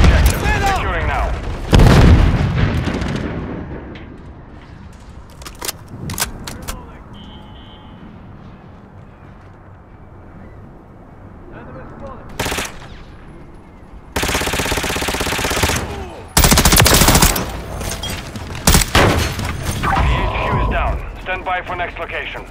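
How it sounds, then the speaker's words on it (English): Gunfire and grenade blasts from Call of Duty: Modern Warfare III on PlayStation 5, with sharp loud bursts and rattling volleys scattered through a busy mix, plus game voice callouts between them. "Grenade out!"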